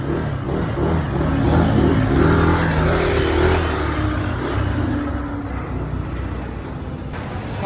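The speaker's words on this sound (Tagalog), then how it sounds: "start muna natin yung motor." A motorcycle engine starts and revs outdoors, a steady close rumble that swells and eases over several seconds before cutting off at the end.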